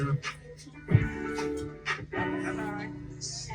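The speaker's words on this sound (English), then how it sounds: "Where's that dog?" A dog gives a few short barks and yips among people talking outdoors at a yard gathering, fairly close but mixed in with the voices.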